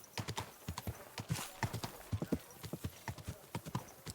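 Horse hooves clip-clop in a steady rhythmic trot in the video game Kingdom Come Deliverance 2, close and distinct, with a brief whinny mixed in.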